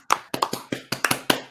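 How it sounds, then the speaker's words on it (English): One person claps hands about eight times at an award show, close and sharp, in an uneven rhythm with short gaps between pairs and small bursts of claps. "I'm gonna clap."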